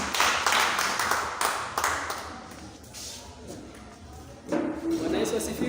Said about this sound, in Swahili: Tukapiga makofi.